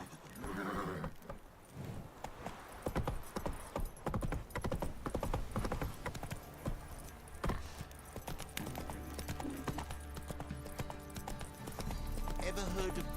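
The horse Roach galloping in The Witcher 3: Wild Hunt, steady clip-clop hoofbeats with a neigh, mixed under game music and character voices.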